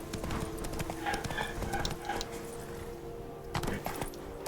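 Horse hooves trot in steady clip-clop rhythm within The Witcher 3 video game, close and continuous, with a few faint voice-like touches mixed in.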